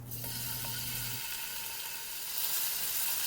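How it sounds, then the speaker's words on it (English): Tofu blocks sear in hot oil in a non-stick pan over medium heat, giving a continuous close hiss that swells slightly louder near the end, with a low hum fading out early. "Let the tofu cook for 2 or 3 minutes on one side"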